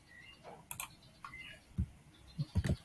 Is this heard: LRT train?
no